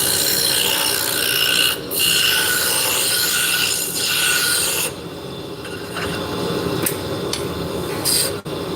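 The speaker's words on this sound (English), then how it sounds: "I'm going to take my roughing gouge. My spindle roughing gouge. And we're going to come and just take it down the side." Spindle roughing gouge cutting a spinning wood blank on a lathe, a steady close rasping scrape that runs continuously, easing briefly and shifting to a thinner, lighter cut partway through.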